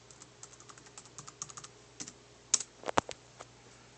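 Keys tapped on an HP Mini laptop keyboard while a password is entered: a run of light, quick clicks, then a few louder, sharper strikes near the end, close and alone.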